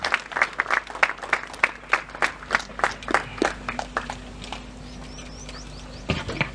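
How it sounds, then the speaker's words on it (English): Sparse, individual hand claps ring out from an audience at a school valedictory ceremony, a few dozen sharp strikes that thin out toward the end, with a faint hum underneath and a brief burst of claps returning at the close. "Let's put our hands together to welcome Mr. Indraneel."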